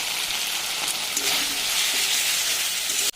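Spice masala with tomato and salt fries hard in a pan for potato curry, a steady loud sizzle running throughout and cut off abruptly just before the end.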